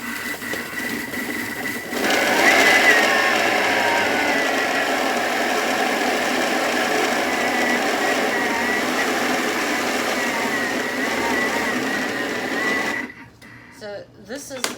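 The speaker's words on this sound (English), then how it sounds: "So this is how quickly it creams butter and sugar." Kitchen mixer with a strong blade creaming butter and sugar, a steady loud whirring motor drone running for about eleven seconds before cutting off, with faint background noise after it stops.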